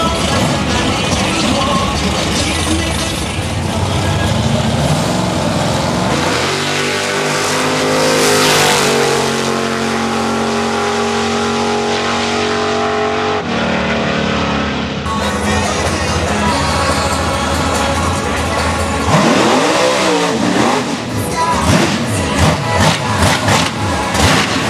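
A 1976 Chevrolet Corvette C3 at a drag racing event revs and accelerates hard, a loud roaring engine with rising gear sweeps and a brief break before it pulls away again, close and dominant.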